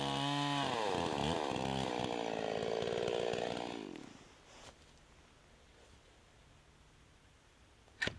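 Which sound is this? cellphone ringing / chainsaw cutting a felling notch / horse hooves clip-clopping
chainsaw cutting a felling notch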